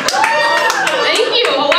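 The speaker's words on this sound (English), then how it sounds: "applause break for Kim Kardashian's fake-ass body" Comedy club audience at a stand-up show breaks into brisk, steady applause, dense clapping close and loud for about two seconds with a few voices mixed in.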